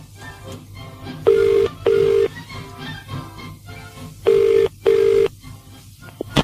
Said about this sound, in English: let's give them a call and see if we can talk to Grumpy